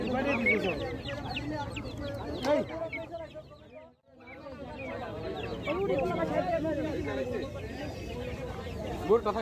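Domestic chickens cluck and chatter continuously at a busy pigeon and poultry market where quail and chicks are also sold, with a brief lull midway and someone talking over the birds.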